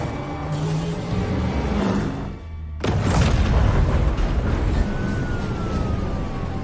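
A boat explodes in the action film Back in Action: a roar of engine and wind, then a brief drop before a heavy boom bursts in and is followed by a sustained rumbling wash of debris and water.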